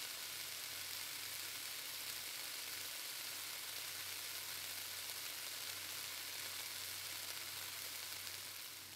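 Onions frying in a pan in the video game Cooking Simulator Shelter: a steady, even sizzle that runs unbroken the whole time, with a low hum underneath and no talking.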